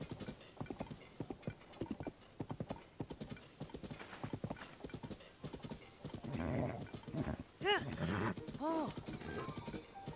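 Horse hooves clip-clop at a gallop in Zelda: Tears of the Kingdom, a steady rhythmic thumping with a couple of whinnies near the end, under continuous talk.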